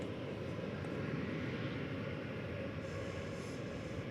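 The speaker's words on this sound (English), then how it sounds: "There's a little American Airlines Airbus A319 going to Des Moines, Iowa." American Airlines Airbus A319 at DFW Airport, a steady, distant low rumble of jet engines holding constant throughout, heard alone without voices.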